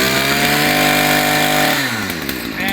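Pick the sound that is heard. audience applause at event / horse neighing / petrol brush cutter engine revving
petrol brush cutter engine revving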